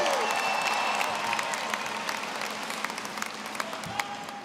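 A large commencement audience at a university graduation ceremony, honoring Bachelor of Science candidates, claps and cheers. Dense applause fills the whole stretch, with a few distinct claps standing out as it slowly tapers.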